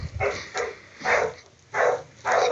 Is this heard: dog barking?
yes